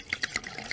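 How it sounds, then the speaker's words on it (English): Balsamic vinegar poured from a bottle, a quick series of soft rhythmic glugs and splashes close by, lasting under a second. "So I'm gonna pour some of this balsamic vinegar in here."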